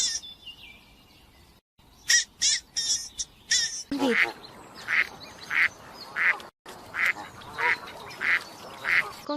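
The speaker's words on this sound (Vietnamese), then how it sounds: "Con vịt." A duck quacks in a steady run of loud, close calls, about a dozen evenly spaced quacks after a brief burst of chirpy bird sounds at the start.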